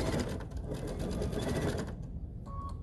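A sewing machine chain-pieces fabric strips for a Dresden quilt block, running continuously with a dense, close mechanical whir that eases off near the end.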